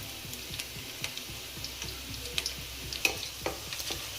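Masala for restaurant-style chicken pepper dry fries in a pan, a soft, fairly quiet sizzle dotted with rapid small ticks and crackles, occasional louder pops, and no speech.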